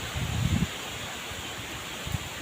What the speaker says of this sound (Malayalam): അതിശക്തമായ കാറ്റാണ് കേട്ടോ